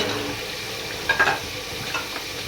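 Cauliflower florets and peas tumble into a tomato-onion masala frying in a pan for a Pakistani-style mixed vegetable dish, giving a couple of soft clattering bursts over a steady low sizzle.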